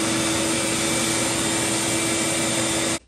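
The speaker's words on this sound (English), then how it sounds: "I'm going to use the shop vac and try to get it out as much as possible" A shop vac vacuums water from a motorcycle gas tank, roaring with a steady, loud, even whine for about three seconds, then cuts off abruptly.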